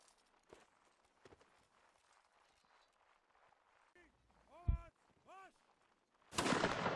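Musket volley fire in a video game line battle: scattered quiet clicks and a few short voiced calls lead into a sudden, loud burst of massed shots near the end.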